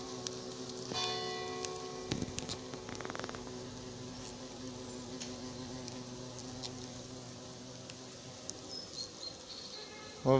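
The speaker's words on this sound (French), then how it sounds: "c'est le frelon blanc là qui vole" A white hornet flies about, its faint, steady insect buzz carrying through a quiet outdoor setting with distant tonal hums and a louder knock at the very end.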